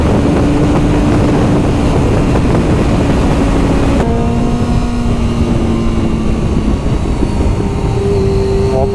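An old Yamaha R6 motorcycle engine pulls hard while riding, a loud steady roar that climbs in pitch, drops briefly at a gear change, then rises again, with heavy wind buffeting throughout.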